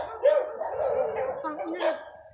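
Several dogs bark and yelp together outdoors, a cluster of overlapping barks and whimpering calls at moderate distance, fairly loud and irregular.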